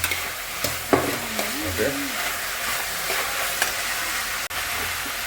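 Onion, tomato and green chilli sizzle in a pan while being stirred, a steady close frying hiss broken by scraping stir strokes, with a brief word spoken quietly over it.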